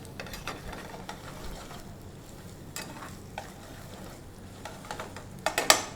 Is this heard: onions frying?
yes